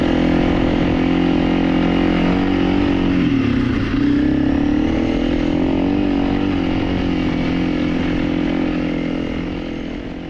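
An enduro motorcycle engine jammed in first gear drones loud and close at a steady idle, dipping briefly in pitch midway, then slowly fading toward the end.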